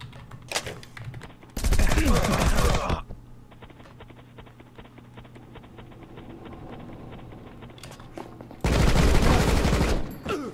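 Two loud bursts of rapid weapon fire in Rocketbirds: Hardboiled Chicken, each lasting a second or two, separated by a steady humming stretch of game ambience.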